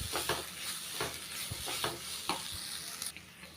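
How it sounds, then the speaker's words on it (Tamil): Grated carrot and coconut sautéed in ghee, giving a soft continuous sizzle with intermittent scraping stir strokes close by, no voices. "கேரட்டையும் தேங்காவையும் அந்த கேரட்டோட பச்சை வாசனை போகிற வரைக்கும் நெய்யிலேயே வந்து நல்லா வதக்கியாச்சுங்க"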